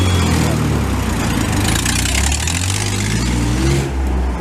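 A Jeep CJ with a four-cylinder engine drives past on Rue Mont-Royal in Montreal, its steady mid-pitched engine drone and revving loud and close over street noise before dropping near the end.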